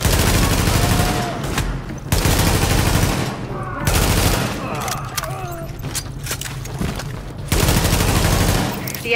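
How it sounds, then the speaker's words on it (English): Heavy automatic gunfire in The Division, a rooftop gunner pinning down an escort party, loud sustained bursts broken by brief pauses, with a voice speaking over the shooting in places. "The escort party's taking heavy fire from the roof."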